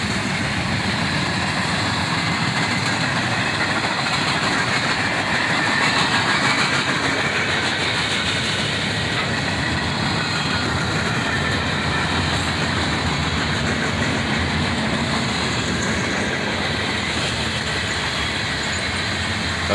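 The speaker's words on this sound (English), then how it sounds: "I forgot what it was like when a train blows by at this faster speed" A CSX freight train with a long cut of tank cars blows past at speed, a loud, continuous rumble and wheel clatter that stays steady and close throughout.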